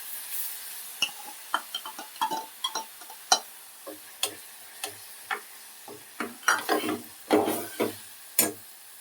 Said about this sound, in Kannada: ಈಗ ಕಡ್ದಿರೋ ಮಸಾಲೆಯನ್ನು ಹಾಕ್ಕೊಳ್ತೀನಿ. ಚೆನ್ನಾಗಿ ಫ್ರೈ ಮಾಡ್ಕೊಳ್ಬೇಕು ಮಸಾಲೆ ಹಾಕಿ.